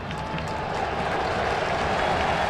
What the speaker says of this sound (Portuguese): O torcedor aplaude a ação ofensiva do Grêmio.